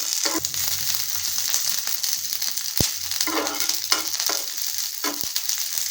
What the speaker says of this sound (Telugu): పచ్చిమిర్చిని అయితే ముక్కలుగా చేసుకొని వేయించుకోవాలి.